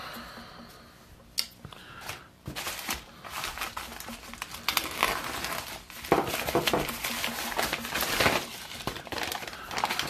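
The package around a Lock Leather holster from Urban Carry is torn open close up, with loud plastic crinkling, rustling and sharp snapping bursts that grow busier as the wrapping comes off.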